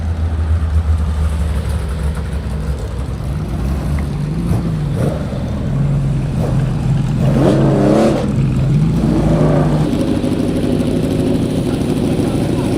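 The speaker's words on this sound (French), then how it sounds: "vous voyez tout le reste des voitures qui arrivent pour aller sur le circuit" Classic cars drone steadily nearby while several rev and pass on their way onto the circuit at the Tour Auto rally, with a continuous rumble of traffic throughout.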